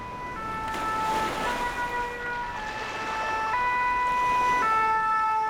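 A fire engine siren wails loud and near as firefighters respond in Corsica, its two-tone pitch alternating in steady steps over a passing vehicle rumble.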